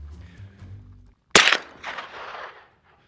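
A single loud rifle shot in a first-person shooter game cracks out sharply, then a shorter rattling burst of game noise follows. Low music plays quietly before the shot.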